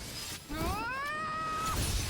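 A shattering attack effect in a video game battle: a bright, ringing tone sweeps upward and holds for about a second before cutting off sharply, over a steady low background rumble.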